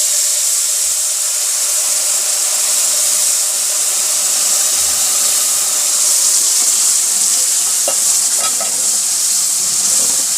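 Water is added gradually to besan (gram flour) cooking in a pan for sooji besan halwa. A steady, close sizzle runs throughout with stirring scrapes, and no one speaks.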